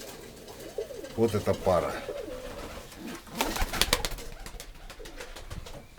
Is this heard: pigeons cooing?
yes